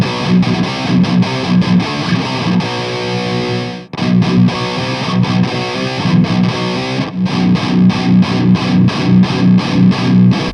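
Heavily distorted electric guitar plays a chugging rhythmic riff through a Kali Reverb amp modeled on the Mesa Boogie Rectoverb, loud and steady with a brief break near four seconds.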